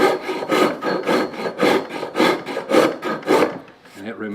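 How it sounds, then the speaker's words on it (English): A Japanese-style wood rasp works across a wooden guitar body in steady rhythmic strokes, about eight coarse rasping passes at close range, stopping near the end as a faint tonal sound follows. "There's also this little rasp here. This is a Japanese style rasp."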